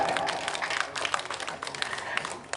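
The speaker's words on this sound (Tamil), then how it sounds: "அன்பு மகன் பாண்டியவனுக்கு ஒரு கைதட்டு கொடுக்கலாம்" An audience claps for Pandiyan at a Tamil stage drama event, a dense, steady round of applause from a crowd, fairly near and sustained throughout with a voice faintly underneath.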